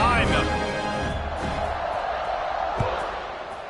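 A stadium crowd roars steadily at kickoff of a Florida State at Oregon State football game, a broad far-off wash of cheering under a play-by-play announcer's voice.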